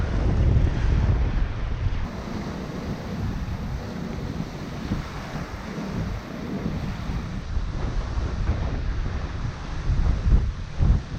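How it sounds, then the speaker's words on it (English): Water rushing past the hull of a Hallberg-Rassy 54 sailing yacht under way off Montserrat, a steady broadband wash with wind buffeting the microphone, continuous and close for the whole stretch. "Water rushing past us."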